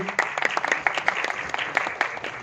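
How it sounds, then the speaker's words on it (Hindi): Audience at an album launch event applauding with dense, lively clapping, close and fairly loud, a crisp patter of many hands throughout. "प्लीज इन सबको जोर से तालियों से नवाजिए"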